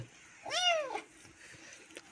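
A single short, high meow from a cat, fairly faint against a quiet background.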